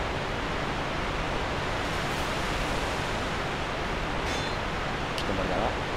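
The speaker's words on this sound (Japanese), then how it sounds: "滝の音がすごい。" A waterfall roars in the video game Dark Souls 2, a constant dense wash of rushing water filling the whole clip at steady volume, with faint game sounds on top.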